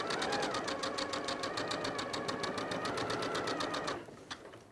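A sewing machine with a 1/4 inch foot stitches fabric squares in a rapid, even mechanical patter up close, then stops abruptly near the end.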